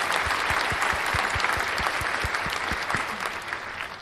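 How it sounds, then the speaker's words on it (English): Applause is played in as a sound effect on a live talk show, a full crowd clapping steadily with a few sharper hits, holding for about four seconds and fading slightly at the close. "Brian, where's the applause for everyone who got it right?"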